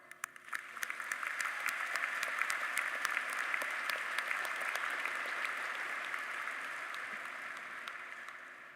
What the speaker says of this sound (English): feel proud of ourselves by giving us